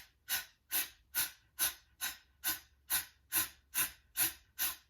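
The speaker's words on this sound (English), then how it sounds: "do a couple of deep breaths just to regulate our breathing" About a dozen sharp, breathy exhales or sniffs from a deep breathing exercise in a theatre warm-up, evenly spaced roughly every 0.4 seconds, close and loud with no speech.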